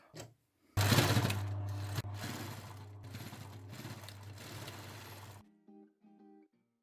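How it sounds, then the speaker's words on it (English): A sewing machine runs steadily while stitching a folded shirt seam, a loud continuous motor whir lasting several seconds before stopping, followed by faint handling sounds. "And I folded it again in half, and we're gonna sew."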